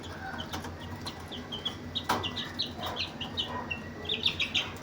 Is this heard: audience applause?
no